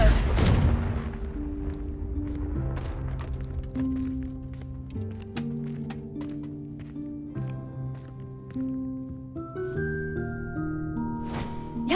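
Confringo fire spell in Hogwarts Legacy, opening with a sharp loud blast that fades into a rumble, followed by scattered impacts and crackles over sustained, shifting game music tones.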